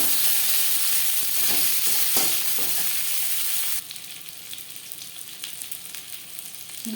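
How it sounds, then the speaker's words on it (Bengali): Two peeled, boiled potatoes sizzle in hot oil in a pan, with a close, steady crackling hiss and occasional stirring clicks. The sizzle is loud at first, then drops noticeably quieter partway through and keeps spattering. "10-15 সেকেন্ড ভেজে নেওয়ার পর দিয়ে দেব আলু।"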